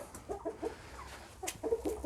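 Several chickens cluck softly in short, scattered bursts nearby, quiet and intermittent with no talking over them.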